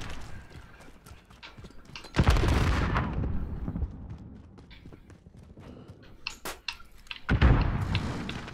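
Gunfire in Call of Duty Modern Warfare, with two loud bursts of shots standing out over a busy background of scattered clatter and smaller impacts.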